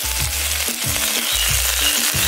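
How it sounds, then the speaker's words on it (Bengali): Chopped capsicum fries in a hot pan for a thin egg curry, a steady sizzle under a run of rhythmic low knocks from stirring against the pan. "ক্যাপসিকাম কাট কেটে রাখা ক্যাপসিকামগুলো আমি এবার দিয়ে দিচ্ছি"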